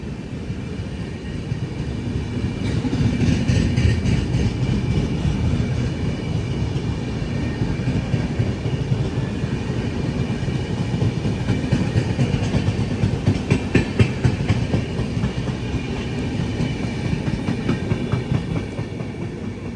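Netravati Express passenger train, routed via Alappuzha, pulling out of a station in Kerala: a loud, steady rumble of wheels and coaches with rhythmic clickety-clack over rail joints throughout, no voices.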